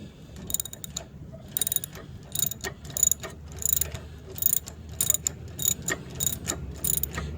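A ratchet tightens a suspension bolt on a 2008 car, quick bursts of sharp clicking repeated in an uneven rhythm, close up and fairly quiet over low background noise.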